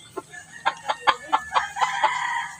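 A rooster crows close by, a loud ringing call broken into a quick series of pulsed syllables over about two seconds, with no talking over it.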